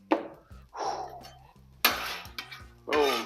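A spatula scrapes and clatters against a flat-top griddle while scrambled eggs are mixed, giving loud, uneven metallic strokes with short pauses between them.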